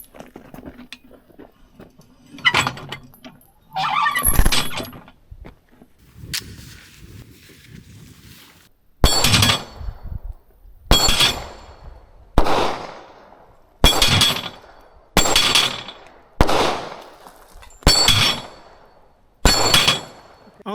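Pistol shots are fired at a dueling tree target from 15 yards. After some early handling noise and brief talk, about nine sharp cracks come at a steady pace of roughly one every 1.5 seconds, each ending with a short metallic ring.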